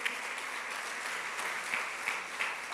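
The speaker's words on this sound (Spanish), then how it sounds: "¿qué tal si le damos un aplauso al Señor?" Church congregation claps for the Lord during a Sunday sermon, a steady, fairly distant patter of many hands that keeps going with small swells, with no talk over it.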